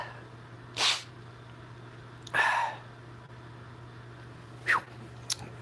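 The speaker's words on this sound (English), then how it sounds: "Uh-oh, sneeze coming, sneeze coming." A person sneezes several times, with short sharp bursts spaced a second or two apart over a faint steady background hum.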